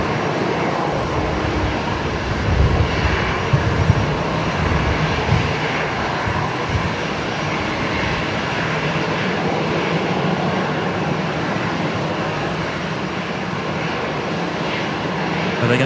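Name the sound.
aircraft taking off at Brisbane Airport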